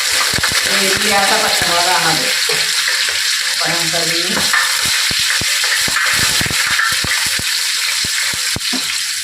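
Loud, steady sizzling of hot coconut oil for tempering in a pan, with sharp crackles and pops, voices talking briefly underneath.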